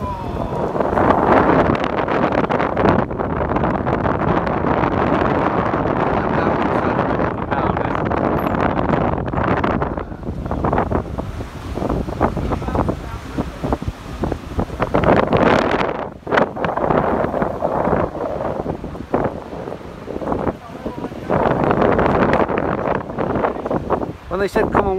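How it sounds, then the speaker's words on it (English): Strong wind buffets a bouncing suspension bridge high in the mountains, gusting roar and microphone rumble rising and dropping throughout, with a person speaking intermittently underneath. "It's incredibly windy and it bounces."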